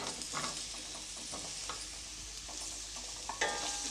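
Boiled potatoes being stirred and fried in a pan for a potato fry, with soft continuous sizzling and repeated scraping strokes of a spoon against the pan, no talk.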